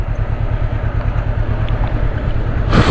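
Motorcycle engine rumbling steadily on an Odivelas street, a loud, continuous low drone that swells slightly at the end as the bike pulls away.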